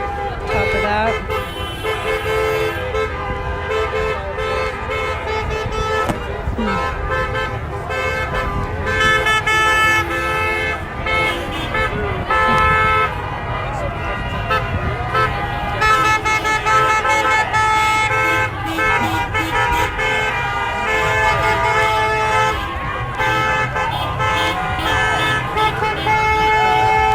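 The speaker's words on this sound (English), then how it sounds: "Still got more cars coming down the road." Cars pass on the road outside a workers' protest at the Minnesota governor's mansion, with repeated horn toots and steady traffic rumble under ongoing talk and crowd noise.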